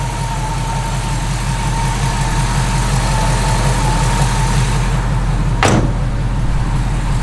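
A 1968 Chevrolet Camaro RS convertible idles steadily with a mild cam, a loud, even rumble with a low rhythmic lope throughout, broken near the end by a single sharp thump like a door.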